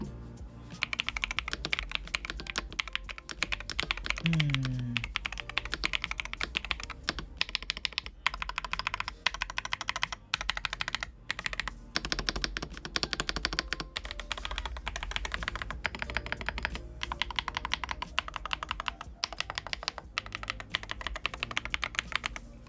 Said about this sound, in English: this keyboard actually does sound quite good stock